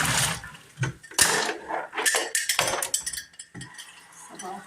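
Clattering metal and splashing water as a pot is scrubbed and rinsed, with irregular knocks, scrapes and running water in bursts.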